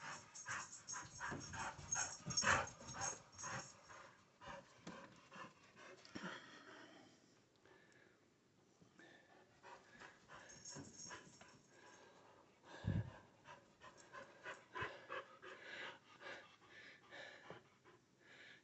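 A dog indoors during a billiards trick session pants in quick, rhythmic huffs with soft snorts and whimpers, close but fairly quiet, with a sharp knock partway through.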